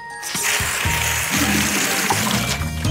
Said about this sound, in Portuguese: Canhão de água.